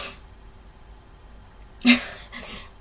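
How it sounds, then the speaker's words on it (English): A woman sneezes once, a sharp, close burst followed by a softer breathy tail, in an otherwise quiet room. "I'm about to sneeze."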